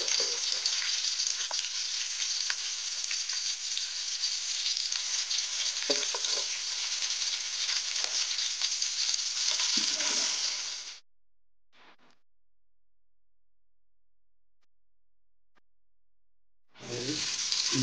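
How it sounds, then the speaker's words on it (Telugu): Chopped onion sizzles and fries steadily in an electric rice cooker for a mutton curry, a loud continuous hiss with faint stirring, then cutting off abruptly into near silence before the sizzle returns at the end. "కొంచెం గోల్డిష్ కలర్ వచ్చేంత వరకు మనం ఇలానే వేయించుకోవాలి"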